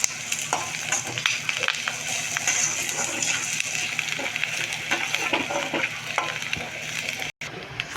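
Onions sautéing in a pan for a quail roast soup, a steady close sizzle with scattered stirring scrapes and crackles throughout, no talk over it.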